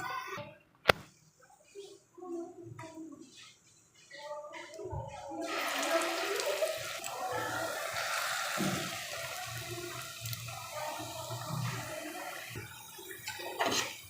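Two potatoes being rinsed in water in a home kitchen, with running, splashing water that swells after a few quiet clinks and continues steadily to the end.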